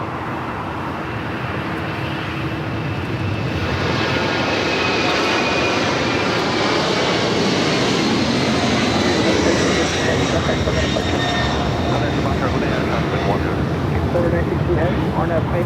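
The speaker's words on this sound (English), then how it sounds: "Air China Cargo, 747-400 freighter rolling down at 25 left." An Air China Cargo Boeing 747-400 freighter takes off on runway 25 left at Los Angeles LAX. Its jet engines build into a loud, sustained roar that swells and holds steady throughout.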